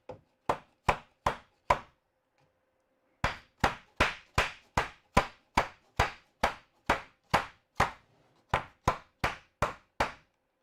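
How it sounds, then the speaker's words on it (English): Roughly nineteen crisp, evenly paced taps on the inside of a wooden vaulted brace during glue-up, with a brief pause after the first four. The taps are close and fairly loud, and no one speaks. "A little bit of a tap on the inside might do it."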